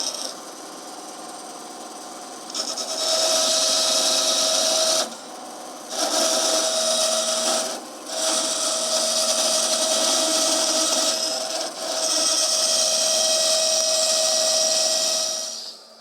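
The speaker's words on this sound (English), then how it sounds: "I'm just going to go ahead and trim this a little closer to the tang with my bandsaw" A bandsaw trims an epoxied knife handle close to the steel tang, giving a steady, loud, whining cut that drops out briefly twice as the blade eases off, then resumes.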